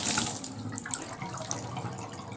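Water running steadily from a newly installed diverter tub spout after a busted spout was repaired, a smooth, even rush in a bathroom, close and moderately loud with no talking.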